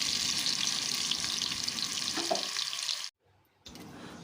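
Potatoes sizzle steadily as they fry in a pan with occasional stirring, loud and close, then the sizzling cuts out briefly near the end before resuming.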